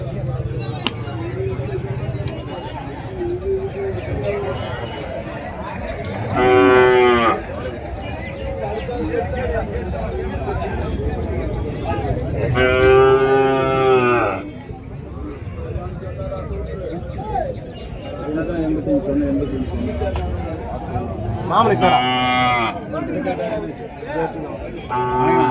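Cattle market at Madrapalli with a busy crowd talking throughout; loud lowing calls from cattle rise above the babble near 7, 13 and 23 seconds, each lasting about a second.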